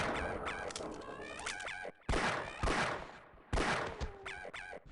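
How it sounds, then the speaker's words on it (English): Several loud, sharp gunshot bursts crack in quick clusters in the video game Half-Life: Blue Shift, separated by brief silences, with a harsh electronic quality. "Very loud gunshots"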